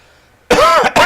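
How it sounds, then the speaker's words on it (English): A short cough from a person who mentions having a slight cough, two loud, close bursts after a quiet moment, the second briefer than the first. "I got a little bit of a cough."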